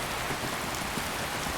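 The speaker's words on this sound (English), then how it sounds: "I'm allowing it to give me this rain." Steady, dense rain from the Obsidian Weathers mod in Skyrim Special Edition, a constant even hiss of falling drops on surfaces, moderately loud and continuous with no voices.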